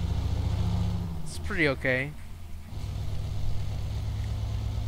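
A truck engine idles and hums in Euro Truck Simulator 2, a modded Kenworth W900 in the game. The low engine drone runs steadily, briefly drops under a man's speech, then returns.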